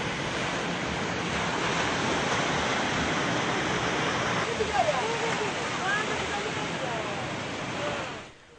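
Ocean surf at Pasar Bawah beach, a shoreline lined with casuarina trees, rolls as a steady, broad wash of waves and wind, continuous and fairly loud before fading out at the end.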